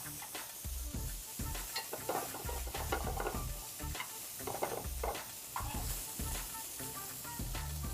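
Fish sautéing in a pan with shallots and roasted garlic, a steady broad sizzle with repeated scraping stir strokes and low knocks of the pan running throughout, close and fairly loud.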